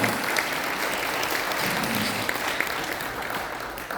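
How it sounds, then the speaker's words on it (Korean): A crowd at an elders' rally for liberal unification gives warm, sustained applause for a former lawmaker, Park Chan-jong, with a continuous wash of clapping that tapers slightly at the end. "우리 박찬종 전 의원님께 뜨거운 박수를 보내주시기 바랍니다."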